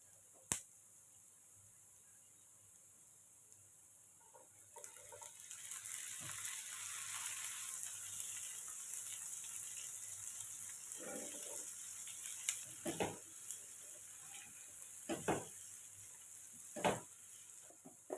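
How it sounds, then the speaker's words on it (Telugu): Potatoes with drumstick leaves frying in a pan, a soft continuous sizzle that builds after a few seconds, broken by sharp clicks and scrapes of a spoon stirring, heard close and fairly quiet. "ఇప్పుడు మనం ఆలు వేసుకుందాం. ఎందుకంటే మనకు ఆలు కూడా ఫ్రై అవ్వాలి కదా."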